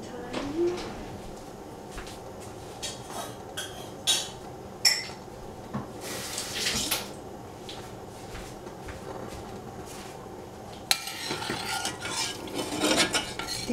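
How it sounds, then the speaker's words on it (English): Milk heating in a pot while being stirred, with soft intermittent scraping and clinks of a utensil against the pot, fairly quiet and close, with a few louder bumps and a brief rustle near the end. "We heat up the milk and stir it"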